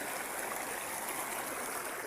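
A mountain river in the Sierra Madre rushes in a soft, even hiss, steady and fairly distant with no other sounds.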